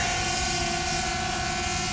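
A DJI Mavic Air drone flying close by just before landing, a loud continuous high-pitched propeller whine with steady tonal buzz and no breaks.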